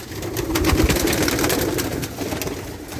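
Low, muffled pigeon cooing from frightened birds, brief and fairly faint against a noisy background. Pigeons are German-bred Vandenabeele and Koopman lines.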